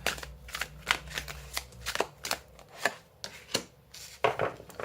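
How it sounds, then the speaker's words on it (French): Thick oracle cards shuffled by hand at close range, with a steady run of crisp riffles and soft slaps coming in quick, uneven bursts, and no voices. "elles sont vraiment trop épaisses, ces cartes, à mélanger"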